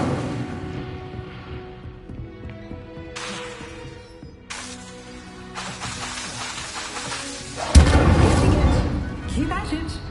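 Incendio fire spell cast in a Hogwarts Legacy-style wizarding video game: a crackling burst of flame swells suddenly and roars, over game ambience and music with speech around it.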